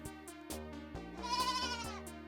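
Dairy goats on a farm let out a close, loud, wavering bleat that shifts pitch in steps across a couple of seconds, with no talking.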